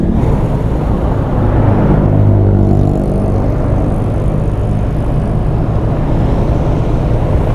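A car engine, started after a push-start, runs loud and close, a steady low rumble and whir from start to finish.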